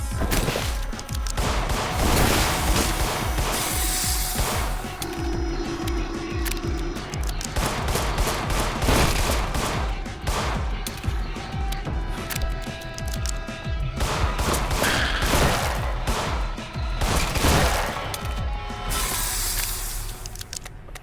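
Rapid, sustained gunfire in the horror game In Sound Mind while shooting at weak points, dense bursts of shots repeating throughout against loud, layered game noise.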